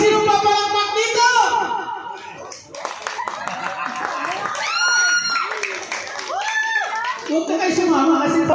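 Children clap their hands at a Christmas party, bursts of clapping mixed with loud excited voices and chatter throughout.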